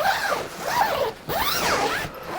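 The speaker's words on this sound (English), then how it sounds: "zip's always quite funky when you first get stuff." A zipper on a new, stiff pouch is pulled open in several quick, rasping strokes, close and fairly loud, with a brief pause in the middle and no talking.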